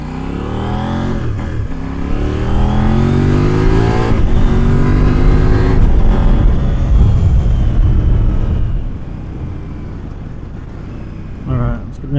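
A KOVE 800X adventure motorcycle in sport mode accelerates hard through the gears, its engine revving loudly and climbing in pitch, with brief dips at shifts before settling to a quieter cruise near the end.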